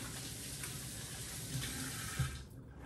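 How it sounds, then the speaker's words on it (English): Tap water runs steadily from a kitchen faucet into a sink while broth is being made, a constant close hiss and splash that cuts off near the end. "I don't know if you can hear me over the water"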